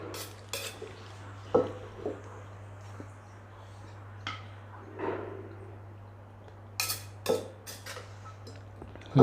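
Scattered clinks and scrapes of a utensil against a pot and plate as papaya salad with fermented fish sauce is scooped out, a few sharp knocks standing out over a steady low hum.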